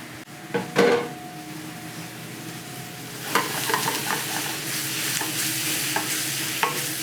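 Onions and ham being stirred in a hot frying pan, the spatula scraping and clattering over a steady sizzle that grows fuller partway through, with a few sharper knocks against the pan.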